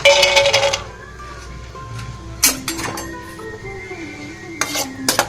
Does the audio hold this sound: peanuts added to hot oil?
yes